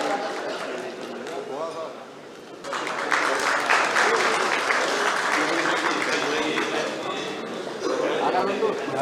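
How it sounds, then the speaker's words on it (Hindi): Audience at a Kanpur business event applauds to welcome a guest, a soft wash of clapping that swells into fuller, louder applause partway through and holds steady, with a voice audible over it at first. "जोरदार तालियों के साथ स्वागत कीजिए"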